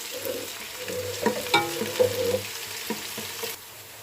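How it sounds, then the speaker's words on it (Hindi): Soft sizzling of garlic-ginger paste frying in a pan, with scattered scraping and tapping from a utensil stirring, close and fairly quiet. "लहसुन अदरक का पेस्ट शामिल करेंगे, 1 चम्मच, और इसे अच्छे से भूनेंगे"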